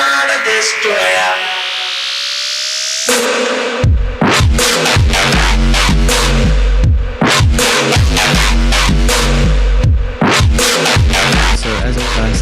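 An electronic music drop built from vocoders and distortion: a rising riser sweep gives way to a heavy, pounding drop with booming bass hits and gritty, distorted synth stabs in a driving rhythm, loud and continuous.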